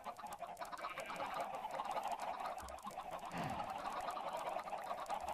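A crowd of Minecraft chickens on a farm clucks and squawks in a dense, continuous chorus, fairly faint, with no talking.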